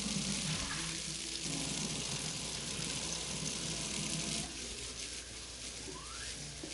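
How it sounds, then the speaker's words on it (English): Rabbit meat washed under a running tap, a steady broadband rush of water that holds throughout and drops slightly near the end. "So what I'm going to do now is wash our meat."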